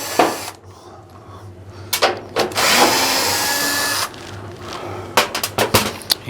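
A power drill whirs in short pulses and then one longer sustained run as screws come out of a GE dryer's front panel, followed by a few quick clicks and knocks of handling, close by and with no talk.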